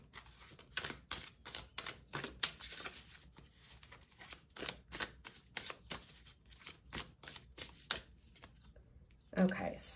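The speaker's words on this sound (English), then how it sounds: "let's pull a card from Reclaim" Tarot cards are shuffled and riffled from a deck, a rapid run of crisp papery flicks and slaps close up, with a voice talking over them.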